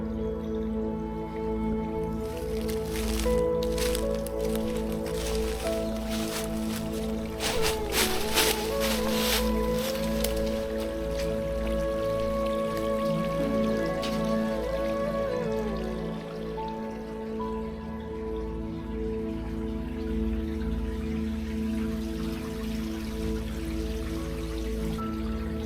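Water trickles and drips beneath a moss-covered, weathered rock arch at Cantwell Cliffs in Ohio's Hocking Hills, a soft steady flow heard alone with faint scattered drops and low ambient rumble throughout.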